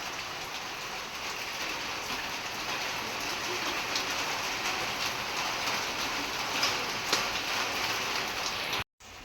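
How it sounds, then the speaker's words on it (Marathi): Heavy monsoon rain pours down outside a Konkan home, a dense, steady roar of drops on surfaces that continues unbroken for several seconds before cutting off abruptly. "बाहेर पावसाचं एकदम जोरात बॅटिंग चालू आहे पाऊस काय थांबायचं नाव घेत नाही"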